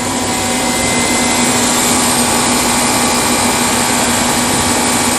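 Alternator spinning during a lithium battery direct charge test, a loud, constant whine and whir with a steady tone and no change, close up and without voices.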